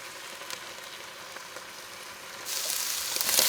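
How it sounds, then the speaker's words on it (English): Beef sears in a pan with a soft, steady sizzle that grows louder and brighter partway through, close by and with no voices. "All I'm gonna do at this point is start to get this browning"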